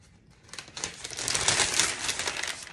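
Paper money bills are folded by hand with a close crinkling and rustling that swells and fades over a few seconds and has no talk.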